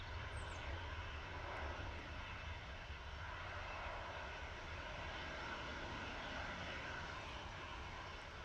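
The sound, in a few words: KLM Embraer E175 aircraft arriving from Amsterdam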